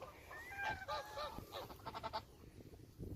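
Several geese honk in a quick, irregular series nearby on a farm in winter, the calls tapering off into quieter background.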